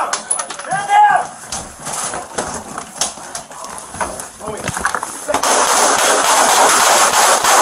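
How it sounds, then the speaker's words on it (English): Several sharp gunshots ring out close by during a police shooting in a building, mixed with shouted commands and officers talking, followed by a loud, steady rush of noise. "Shots fired."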